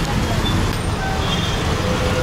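Street traffic in Hyderabad, India, rumbles as a dense, continuous roar of engines with faint horn toots, loud and close, with a voice partly present over it.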